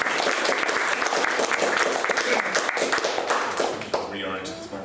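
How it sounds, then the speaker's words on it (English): Dense applause from a panel-event audience, loud and sustained with countless overlapping claps before it thins out; a voice begins talking near the end. "Can we just get a quick round of applause for our two previous speakers?"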